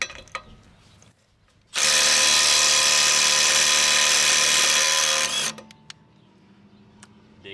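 A Milwaukee M12 Gen 3 impact driver hammers steadily on a fastener for about four seconds. The loud, continuous rattling impacts stop abruptly, with quiet handling noises before and after.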